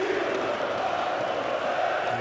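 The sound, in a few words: handball arena crowd cheering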